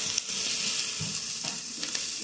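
Vegetables with spring onion greens sizzle and fry steadily in a hot pan, a continuous crackling hiss with occasional soft stirring sounds.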